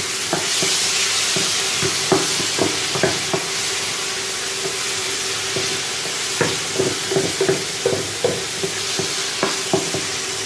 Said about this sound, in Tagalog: ilagay na natin ang ating kamatis. So, hiniwa-hiwa lang natin siya ng cube cut